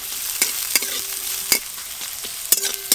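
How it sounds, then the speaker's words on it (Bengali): Chopped onion sizzles in mustard oil with nigella seeds, a steady frying hiss broken by several sharp scrapes of a stirring spoon against the pan, close and without talk. "পেঁয়াজ কুচি একটু হালকা করে ভেজে নিয়েছি"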